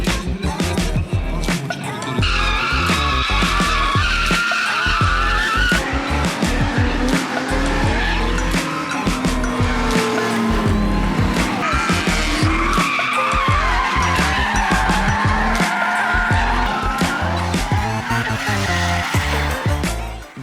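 A supercharged Lexus IS200 drift car fitted with a Mercedes supercharger revs hard and loud, with sustained tire squeal and skidding throughout, the engine note rising and falling close by.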